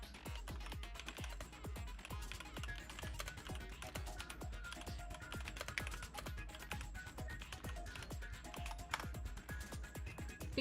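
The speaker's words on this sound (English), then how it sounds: "Sorry if my keyboard is loud." A loud computer keyboard is typed on during a Danganronpa playthrough. Rapid, continuous clacking keystrokes come close to the mic over faint game music, with no talking heard.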